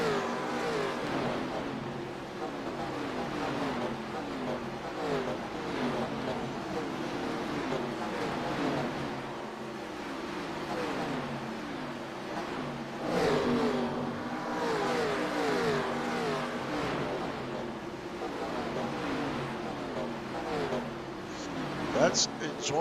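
NASCAR race cars lapping Bristol Motor Speedway in iRacing: a continuous engine roar with revving and cars sweeping past, running steadily throughout.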